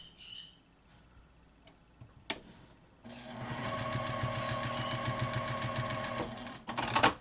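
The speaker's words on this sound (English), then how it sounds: "So you're going to sew this one" A sewing machine stitches fabric mats, starting after a few quiet seconds of faint handling clicks, then running in a fast, even mechanical rattle for about three seconds, pausing, and giving one more short burst.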